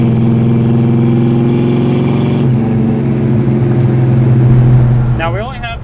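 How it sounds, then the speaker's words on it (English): A 1969 Plymouth Road Runner's engine idles with a loud, close, steady rumble, then is revved up toward the end, its pitch climbing. "I could hear the induction noise when you revved it when I was standing in front."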